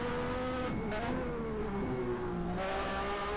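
Formula One cars race at the 1991 Japanese Grand Prix at Suzuka, including a Lamborghini V12 engine, their high engine notes rising and falling as they pass, with a continuous roar of engines throughout.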